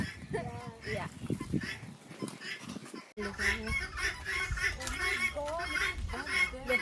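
Chickens and a turkey call in a loose, irregular chorus of clucks and squawks, close by and steady, with people talking over much of it.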